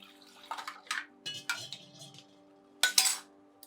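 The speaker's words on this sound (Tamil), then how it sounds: "தேவையான அளவுக்கு தண்ணி ஊற்றி கழுவி ஊற்றிக்கலாம்" Water splashes and pours into a metal pot while washing ingredients for village-style chicken curry, among scattered clanks of utensils and cookware, with a louder splash near the end.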